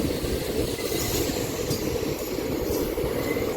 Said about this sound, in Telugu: పక్కనే ఇంకో ట్రైన్ వస్తుందండి